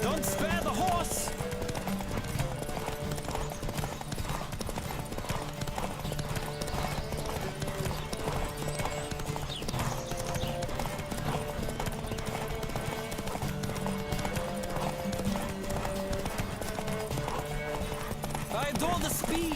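Galloping horse hooves in The Witcher 3 beat in a fast, continuous clip-clop throughout, with a character shouting over the hoofbeats.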